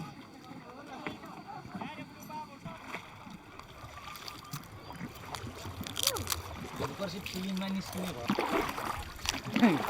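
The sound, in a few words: small rowboat being rowed on Phewa Lake, Pokhara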